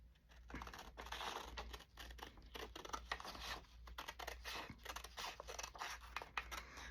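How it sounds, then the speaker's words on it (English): Scissors snip through squares of regular printer paper, a close, quiet run of rapid crisp cuts and rustling paper with a steady rhythm and no talk. "And these are easy for me to cut."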